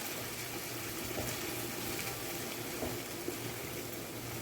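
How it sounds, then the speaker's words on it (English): Steady running water pours continuously, a soft even gush with faint clinks near the end. "Now I'm going to tip a little water."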